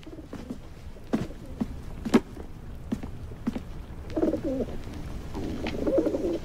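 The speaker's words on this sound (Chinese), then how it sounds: "这是宫中送信的鸽子，不知怎么受了伤，从半空坠落" An injured palace messenger pigeon coos softly in short, low, throaty phrases, with scattered thumps and faint footsteps around it and a couple of louder coo bursts toward the end.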